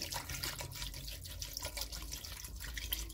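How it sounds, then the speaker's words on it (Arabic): Water pours steadily into a cooking pot for a homemade juice with peaches, a continuous close splashing rush with no talking. "كنديرو الماء، داكشي الماء اللي درنا غادي نطحنو فيه الخوخ"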